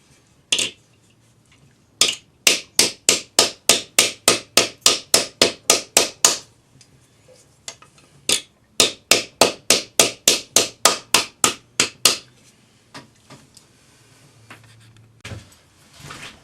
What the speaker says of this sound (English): hammer this into our block using our tapered nylon hammer